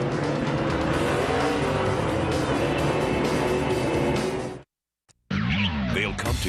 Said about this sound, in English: And a little burnout here.